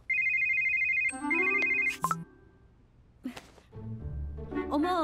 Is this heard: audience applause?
no